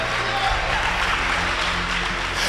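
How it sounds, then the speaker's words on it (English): A church congregation claps and praises God, a sustained wash of applause and crowd noise with voices mixed in, steady and fairly loud throughout. "Clap your hands, somebody."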